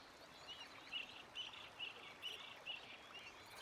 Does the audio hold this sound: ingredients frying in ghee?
no